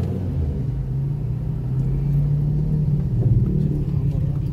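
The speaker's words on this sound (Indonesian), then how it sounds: "Jeep Hummer." A Jeep Hummer rolls along a narrow road near a villa resort, its low engine rumble steady and close with a slight swell toward the end, under faint background murmur.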